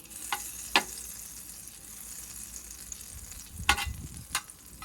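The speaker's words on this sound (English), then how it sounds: "I'm just using my little small Dutch oven here. Let that butter melt around." Butter melting and sizzling in a small Dutch oven, a soft continuous sizzle with a few sharp clacks of a utensil against the pot.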